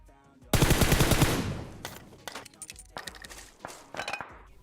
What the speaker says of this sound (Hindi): और यार सामने गोलियां भी चल रही थी